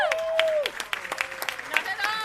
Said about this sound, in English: Keep the applause going for Raina.